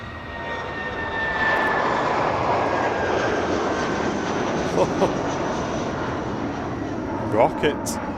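A British Airways airliner on its takeoff roll at Manchester Airport gives a loud, building jet roar with a rising engine whine. It holds steady and close, and people talk over it.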